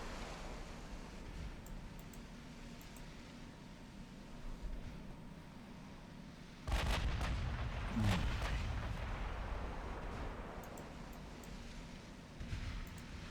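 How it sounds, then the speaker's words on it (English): A naval artillery salvo booms in Ultimate Admiral Dreadnoughts, a sudden heavy blast followed by rumbling echoes and further thuds over an ocean-like wash, with no talking. "One last salvo on this ship."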